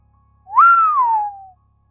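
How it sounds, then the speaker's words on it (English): A single low human whistle rises quickly, holds briefly, then glides downward and fades over about a second, clear and isolated against near silence. "Jimmy let out a low whistle in agreement."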